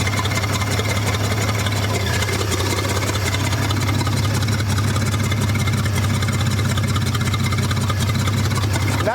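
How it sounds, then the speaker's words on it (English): A 1947 IH KB3 fuel truck engine idles steadily and continuously, a deep, even rumble held close and loud for the whole stretch with no talk over it. "Yeah, she's idling."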